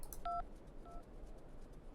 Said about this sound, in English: We could phone Oscar.